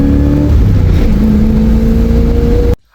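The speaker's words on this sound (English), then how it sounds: "This thing has a 305 making 140 horsepower, and even though it makes the best sounds on earth" A Chevrolet Camaro with a 305 V8 engine making 140 horsepower revs loud and close. Its deep, steady engine roar holds for nearly three seconds with rising and falling pitch, then cuts off abruptly. No one speaks.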